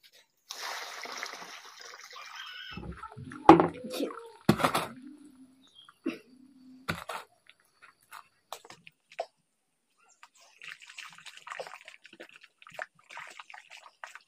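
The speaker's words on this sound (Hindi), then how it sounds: "ये पानी को अब डालते हैं" Water poured from a container onto soil at a village house being readied for plastering, splashing and splattering in bursts with intermittent drips and a later softer trickle, close by.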